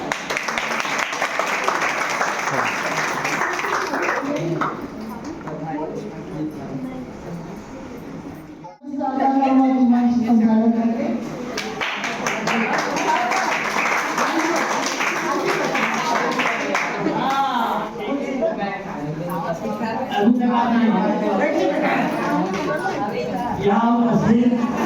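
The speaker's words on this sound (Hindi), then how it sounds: "जोरदार तालियां।" Loud applause from students and staff at a school Teachers Day event, a dense burst of clapping that swells after a brief dip and carries on with crowd chatter and a voice speaking over it.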